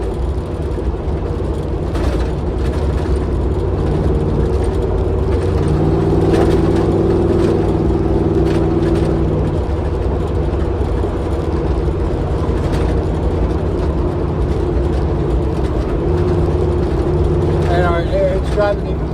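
A vehicle being driven after a vibration fix, with a steady, loud low engine drone and road rumble that runs unbroken throughout and never lets up.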